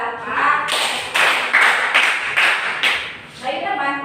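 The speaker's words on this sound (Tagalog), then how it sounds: "bigyan niyo yung sarili ng 5 palakpak" Students in a classroom teaching demonstration clap together in a quick rhythmic pattern of sharp, loud bursts, with a voice heard briefly before and after.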